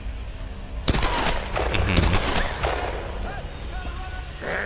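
Gunfire in the Tomb Raider video game: a sharp loud shot followed by another blast about a second later, amid game noise and rumble, with people talking over it.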